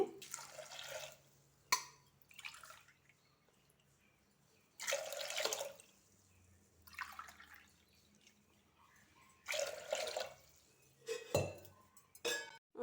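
Several short bursts of water splashing and pouring into a metal pressure cooker with barley, with clinks of a glass between them and quiet pauses.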